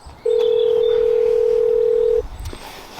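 A loud, steady telephone dial tone sounds for about two seconds as a call is placed, then stops abruptly, leaving faint room noise behind.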